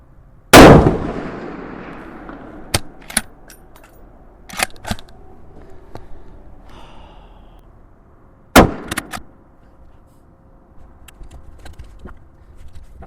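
Rifle shots from a Tikka T3x Arctic (C19 Canadian Rangers rifle) at an outdoor range: one loud, sharp report with a decaying echo, a series of fainter distant shots and clicks, then a second loud close shot, with no talk.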